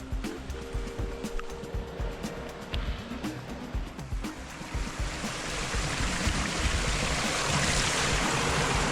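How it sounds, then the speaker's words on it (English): A small creek with little waterfalls near old gold mines in Queenstown, a steady close rushing and splashing of flowing water that grows louder and fuller toward the end. "Pretty little creek. Lots of little waterfalls and stuff."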